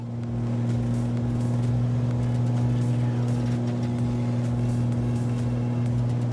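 Simulated Cirrus SR22 piston engine power rising in Microsoft Flight Simulator 2020, a loud steady propeller drone with strong low tonal hum that holds level after a quick swell at the start, no talk over it.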